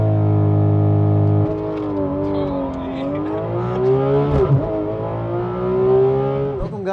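A Porsche engine holds a steady high idle under launch control, then drops and climbs through rising revs as the car accelerates hard, loud and close throughout, with a brief tire chirp near the end.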